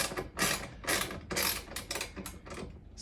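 A socket wrench ratchets close by in quick repeated clicking bursts while the fan bolts inside a Samsung refrigerator are snugged down, with no talking.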